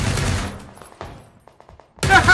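Gunfire rings out in the PUBG video game as a few sharp, distant bursts of rapid shots, set between louder stretches of game noise at the start and the end.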